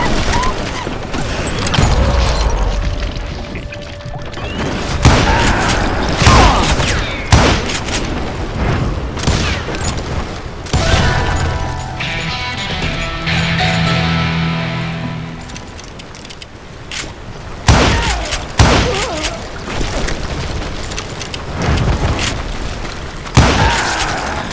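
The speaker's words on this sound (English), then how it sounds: "now that the shooting had started" Gunfire in the Call of Juarez Gunslinger video game, loud sharp shots and booming blasts in irregular bursts, mixed with a voice speaking and background music.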